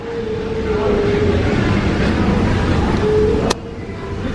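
A car on the road with a steady, loud engine and road rumble throughout, a brief sharp click near the end, no talking.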